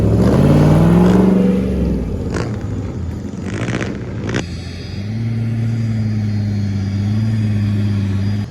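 A Pagani Huayra sports car engine revs loudly and close at first, then its roar falls away to a steady idle-like drone, with a few sharp mechanical clicks in between.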